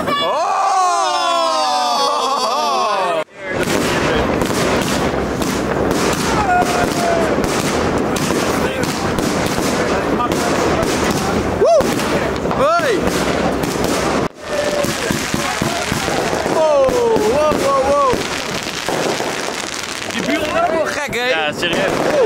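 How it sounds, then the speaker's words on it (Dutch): Neighbours' fireworks crackle and pop in a dense, continuous barrage of sharp bursts, heard behind loud, excited voices talking and shouting close by. "Ik moet wel zeggen, die buren hebben wel echt gek vuurwerk, jongen."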